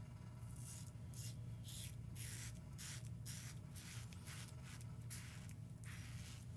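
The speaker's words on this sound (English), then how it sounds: "So I'm just going to go in and start shaving here." Razor strokes scrape steadily across skin in a rhythmic series of short rasping passes, close and quiet, with no talking.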